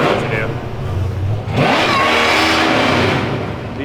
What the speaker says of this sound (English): revving the hell out of that thing